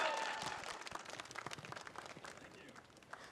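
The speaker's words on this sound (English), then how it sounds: "round of applause for Huhi once more" Crowd applause fills an esports arena at an LCS match: dense, continuous clapping and cheering that stays fairly distant and gradually eases off.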